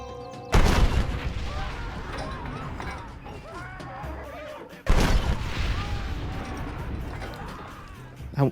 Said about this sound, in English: Now we get to shoot a cannon.